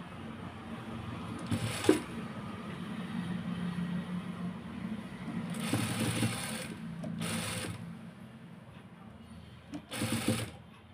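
A sewing machine runs a steady straight stitch along the edge of pants while attaching lace, a low continuous hum broken by a few louder bursts of faster stitching, close and alone.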